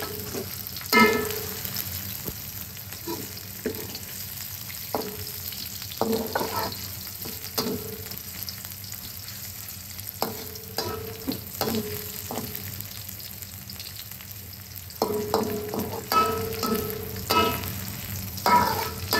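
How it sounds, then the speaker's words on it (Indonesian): Holland onions soften in a pan alongside shallots and garlic already turning golden, a low continuous fry crackle broken by frequent sharp spatula knocks and scrapes against the pan, close and irregular over a long stretch. "Kita layukan bawang Holland ni."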